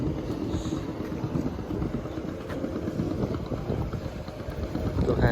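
MV Lakshmipur, a passenger launch on the Bhola–Beduria river route, heard from the water: low continuous engine rumble mixed with heavy wind buffeting the microphone, steady throughout with no talking.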